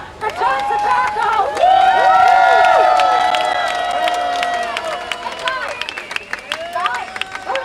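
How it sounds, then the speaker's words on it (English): A crowd cheers, whoops and claps at an outdoor medical freedom rally at Manhattan's City Hall. The noise swells fast into a sustained roar with scattered shouts, then thins into sparse claps and calls over a few seconds. "Everybody put your hands together for John Tobacco."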